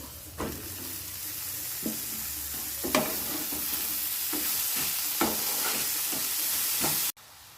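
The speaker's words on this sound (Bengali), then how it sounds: "সামান্য পরিমাণ নুন দিয়ে ভালো করে এবার মূলো শাকটা দিয়ে দেব।" Radish greens seasoned with turmeric and salt sizzle steadily in a hot pan as they are stir-fried, with occasional spatula scrapes and knocks over the frying hiss before it cuts off abruptly.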